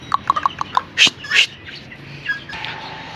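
Pet lovebirds chirp and squawk as they are let out of their cage, a quick run of short close tweets followed by a few louder calls and softer chatter.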